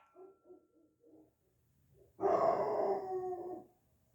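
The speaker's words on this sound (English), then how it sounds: "Just the dog's barking." Dog barking several short muffled times in a loose rhythm, then breaking into one loud, sustained howl that fades out, heard nearby with no talking.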